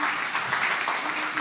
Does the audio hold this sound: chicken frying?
no